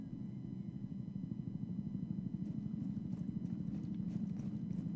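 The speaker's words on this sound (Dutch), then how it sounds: "Ik hoor iemand lopen." Footsteps of someone walking in the video game Rainbow Six Siege, a steady quick rhythm of soft, fairly faint steps that continues throughout with no talking.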